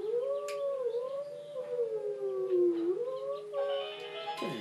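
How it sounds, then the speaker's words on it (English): Wolf howl from the video game Twilight Princess, a long, loud, wavering howl that rises and falls in pitch, followed at the end by a brief burst of game music. "No, I have to howl it again."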